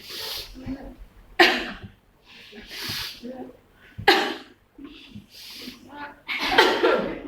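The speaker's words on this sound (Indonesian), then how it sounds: "Nah, ini batuk ya." Several bursts of coughing, close and fairly loud, spaced out over a few seconds with breaths and quiet gaps between.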